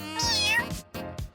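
Kittens give several high, close meows, one long drawn-out cry followed by two shorter ones, with no voices over them.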